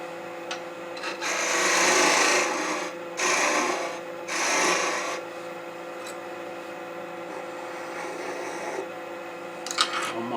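A wood lathe turns a gnome ornament while a tool tapers its spigot, giving a low motor hum with bursts of rasping, scraping cuts that come in a few close, loud passes before the sound settles back to the steady spin.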